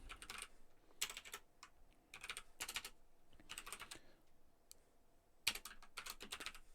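Someone types PHP code on a computer keyboard in quick bursts of close, crisp keystrokes, with short pauses between runs and no talking.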